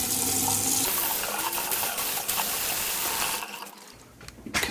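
Water from a newly installed bathroom sink faucet runs in a strong steady stream into the basin, then eases off and splashes as the flow changes, close by with no talking.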